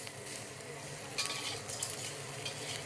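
Shrimp stir-frying in a hot wok on a Bluestar range, a steady bright sizzle with a few sharper spatula scrapes and tosses midway, close and continuous.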